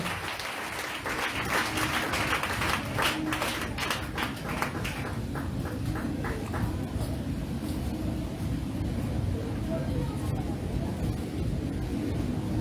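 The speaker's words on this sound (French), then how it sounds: "Acclame fortement le Seigneur Jésus pour la vie de son serviteur." Church congregation applauding in acclaim of the Lord Jesus, a steady dense wash of clapping with faint voices mixed in, continuous and fairly loud throughout.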